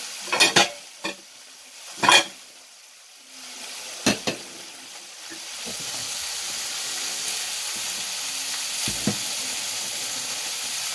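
Pork sizzles in a pan, broken by a few sharp clanks and scrapes before a splash of water hits and sets off a loud, steady hiss and sizzle that lasts to the end.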